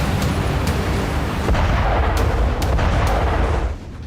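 A K9 Vajra self-propelled howitzer fires in a sustained, loud barrage of booming blasts and rumbling roar near the Line of Actual Control, with no voices, and the roar drops off abruptly at the end.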